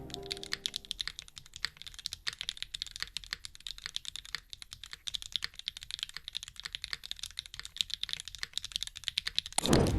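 Typing on a SingaKBD Kohaku custom mechanical keyboard, a close, steady run of crisp keystrokes with a few louder thocks, alone without talk.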